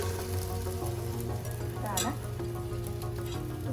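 Egg-soaked bread slices for French toast dropped into a hot pan, giving a steady, close sizzle and crackle of frying with a brief louder burst as a slice lands, continuing evenly throughout.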